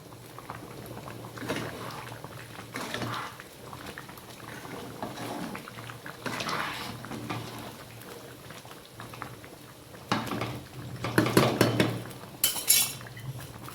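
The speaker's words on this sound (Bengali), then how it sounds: "2-3-4 মিনিট পরে আমি একটু নাড়বো বলে ঢাকাটা খুলছি।" A pot of khichuri bubbles softly on the stove, then a lid clinks off and a metal spoon scrapes and clatters against the pot as it is stirred.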